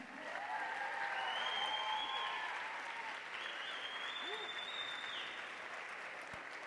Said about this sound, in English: Parents, a round of applause for our students.